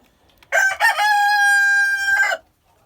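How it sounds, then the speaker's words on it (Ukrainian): A single loud Minorca rooster crow close by, rising then holding a long, steady drawn-out note before cutting off, with quiet before and after. "Ой, мінорочка вже кукурікає."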